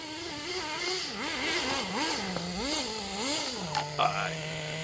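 Team Associated RC10GT RC truck driving in dirt and mud and taking a jump, its motor whining up and down in repeated rises and falls, then holding a steady lower drone, with a voice faintly underneath.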